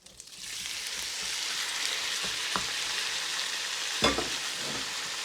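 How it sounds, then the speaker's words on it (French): White fish sautés in butter and oil over high heat, a loud, close, continuous sizzle that swells after a quiet start, with a few utensil taps and one sharper clatter. "pour le poisson blanc, un petit peu de beurre, un petit peu d'huile, on les fait revenir"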